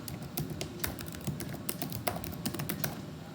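Fingers type a git config command for a user email on a computer keyboard. Rapid, irregular key clicks come close and fairly quiet, in quick bursts with no talking.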